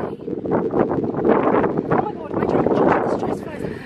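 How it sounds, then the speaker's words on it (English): Strong wind gusts on a high, exposed spot on Santorini, Greece, roar steadily and buffet the microphone with broadband rumble throughout, loud and close, with voices faintly mixed in. "I think it's quite windy up here"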